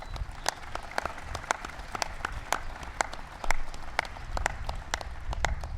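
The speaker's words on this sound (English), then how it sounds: "give Paul a big round of applause" A crowd at a White House ceremony honoring the 2012 NASCAR Sprint Cup champion claps for a crew chief, with crisp, separate claps ringing out over a low room rumble, steady and fairly close.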